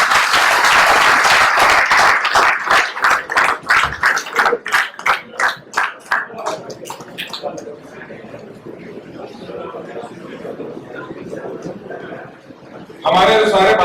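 Loud applause from an audience at the launch of a tobacco-free Mumbai police station campaign, a burst of rapid clapping that thins into scattered claps and fades, with a voice speaking over the quieter stretch.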